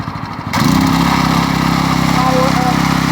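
A gas-powered bed edger engine catches after a brief pull-start and settles into a loud, steady, sputtering run close by, its rapid firing pulses continuing to the end.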